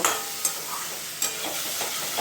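Dhenki shak fern greens stir-fry in a pan for a North Bengal recipe, producing a continuous close sizzle with occasional light scraping clicks of stirring.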